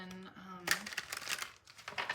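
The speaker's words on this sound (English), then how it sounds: "I don't usually say anything during the shuffling, but I know some people like to watch." Tarot cards are shuffled in soft, irregular crinkling riffles and slides up close, with a brief tonal hum at the start before the papery bursts take over.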